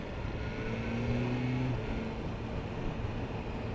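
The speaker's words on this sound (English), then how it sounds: "That awesome engine note as well." A BMW S1000R motorcycle engine drones steadily with a clear tonal hum that holds for a moment then fades into a constant rumble, moderately loud and unbroken.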